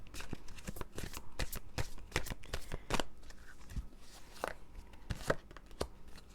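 Oracle cards being shuffled by hand, a dense run of crisp riffling flicks and soft slaps close up, continuing with no speech.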